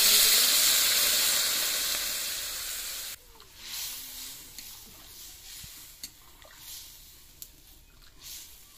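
Oil heating in a pan for hilsa fish with brinjal, cooked village style: a loud, steady sizzling hiss that cuts off sharply at about three seconds, leaving quieter crackles and a few faint ticks.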